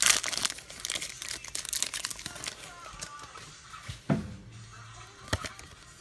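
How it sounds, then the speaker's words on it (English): A Pokémon Plasma Blast booster pack wrapper being torn open and crinkled by hand, close and loud, with bursts of crackling foil, a sharp tear and a few softer rustles as the wrapper is pulled apart. "Let's open up this last Plasma Blast."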